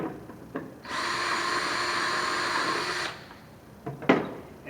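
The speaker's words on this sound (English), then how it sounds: "now I'm going to drill the lid that goes on the bottom bucket" A power drill whines steadily for about two seconds, loud and close, drilling through the center of a plastic bucket lid, then stops; a few clicks and handling knocks follow.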